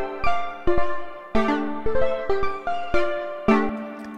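A synth lead line sequenced by the Polymath device in Ableton plays a run of plucky, bright notes, each struck sharply and decaying, in an uneven melodic rhythm, clean and alone.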